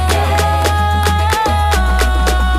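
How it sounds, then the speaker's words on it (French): Mbole music from Cameroon with a steady danceable groove: sharp percussion hits every fraction of a second over a deep sustained bass and bright guitar-like lines, loud and continuous with no talking. "C'est le mbole 237."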